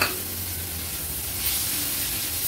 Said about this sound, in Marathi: आता हे सर्व मसाले तेलावरच छान आपल्याला परतून घ्यायचे